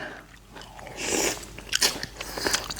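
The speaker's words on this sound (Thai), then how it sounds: "เป็นไงเต็มปากเต็มคำแคบหมู" Crunchy Thai pork crackling (khaep mu) bitten and chewed close up, a few crisp crunches in quick succession with faint background noise and no talking.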